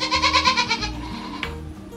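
A goat bleats loudly and close by in a backyard, with a wavering, pulsing cry that fades into quieter background sound.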